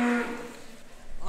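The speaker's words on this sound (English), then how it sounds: "It's a cow, ladies and gentlemen, black one down there in the middle." A black cow moos at a livestock auction with one low, drawn-out call that fades quickly, followed by a quieter murmur of the barn.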